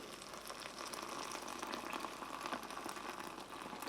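Water pouring steadily into a British Army cold-climate ration meal pouch, a continuous bubbling, fizzing rush heard close up and fairly quiet, with no talking.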